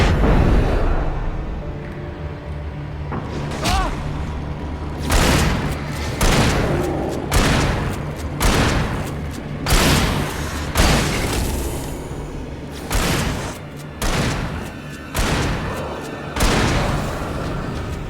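Repeated gunshots and booming blasts in a video game, fired in bursts every second or two over a steady low background hum, loud and close, with brief voices mixed in.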